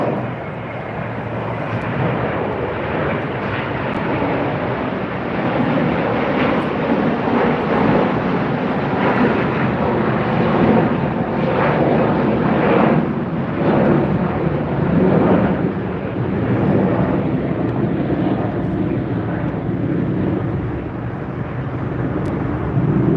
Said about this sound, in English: All right, here goes another departure.